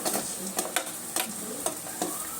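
Potato and onion sautéing in a pan before cabbage goes in, a close, continuous sizzle punctuated by a regular series of spatula scrapes and taps.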